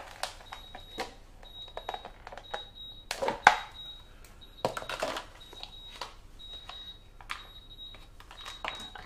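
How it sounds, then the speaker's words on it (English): A kitchen timer beeps in a steady repeating pattern of short high pulses, moderately loud, amid clattering and handling noises while chocolate eggs are worked on during baking of gluten-free apple crumble tartlets. "I can hear the timer."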